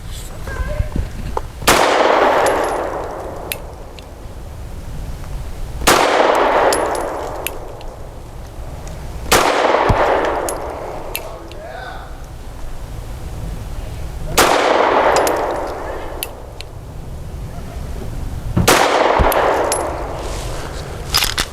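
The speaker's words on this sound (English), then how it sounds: "I'm going to shoot at the left circle square." Five sharp pistol shots from an FN 509 Midsize Tactical firing 115 grain rounds at a target seven yards away, each a loud crack with a short ringing tail, spaced about four seconds apart over steady background noise.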